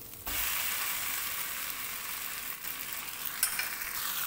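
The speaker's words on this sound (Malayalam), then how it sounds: "ഇനി നമ്മൾ വേവിച്ച നൂഡിൽസ് ഇതിലോട്ട് ഇട്ട് കൊടുക്കണേ." Cooked chicken noodles drop into a hot pan and are stirred, making a steady, bright sizzle of frying with light scraping and clicking from the spoon, close and continuous, with no voices.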